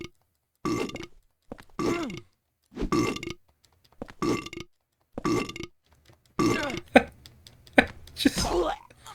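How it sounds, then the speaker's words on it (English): Monster creatures in the video game Silent Hill 4 let out a run of deep, croaking burps, about eight evenly spaced belches, the last few rougher and overlapping. "burp, burp, burp"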